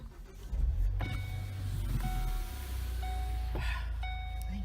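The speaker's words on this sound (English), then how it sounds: "Can we start the car? Why? So I can roll the fucking window down" A Ford car idles with a low engine rumble while its electric window motor whirs in several short, steady bursts, each stopping and starting again at close range inside the car.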